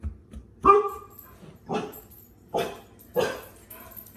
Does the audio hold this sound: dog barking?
yes